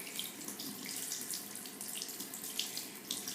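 Tap water runs steadily into a sink while a makeup brush is washed, a continuous close splashing hiss with no voices.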